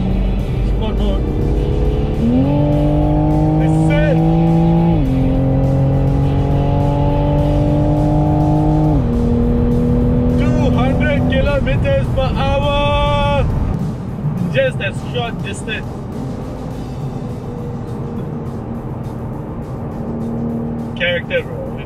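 Toyota GR Supra with an inline-six engine driven in sport mode, revving up and shifting through gears with rising and stepping engine tones, loud from inside the car, with someone talking between pulls.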